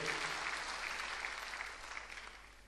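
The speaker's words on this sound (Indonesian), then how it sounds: "Tepuk tangannya paling meriah buat Tuhan kita." An Indonesian church congregation applauds during a sermon, steady dense clapping from many hands in a reverberant room, fading a little toward the end.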